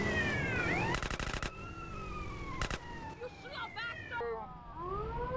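Police car sirens wail in GTA San Andreas, rising and falling tones sweeping continuously through the scene, interrupted by a few sharp impact bursts and brief chirping tones.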